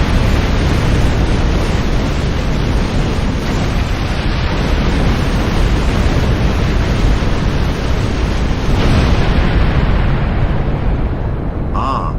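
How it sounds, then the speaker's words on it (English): Large explosions rage through a starship battle, a dense, continuous roar of rumbling blasts that stays loud and steady throughout, with a brief higher tone near the end. "Large explosions, please."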